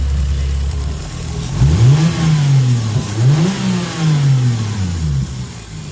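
A turbocharged 2JZ engine in a Lexus IS300 idles briefly, then gets several sharp revs that rise and fall in quick succession, loud and close with no voices.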